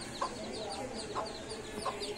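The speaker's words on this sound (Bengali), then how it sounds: "এটা হচ্ছে আমার মুরগি" A backyard chicken clucks near the camera, three short clucks spaced about a second apart over an outdoor background hum.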